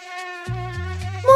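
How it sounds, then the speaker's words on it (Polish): A fly buzzes steadily and close by in a kitchen, a thin whining drone that holds its pitch, then shifts and swells louder at the end. "Co to za brzęczenie?"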